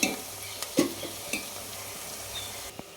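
Curry leaves go into a hot pan of oil for a crab curry with ginger-garlic paste, giving a soft sizzle under several sharp stirring scrapes and clatters of a spoon against the pan, close and fairly quiet.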